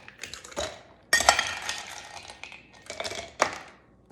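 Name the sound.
ice cubes clinking while stirring iced tea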